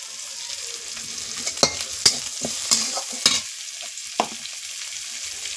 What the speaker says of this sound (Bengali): বন্ধুরা দেখো শাকটাকে আমি এরকমভাবে নেড়ে নিচ্ছি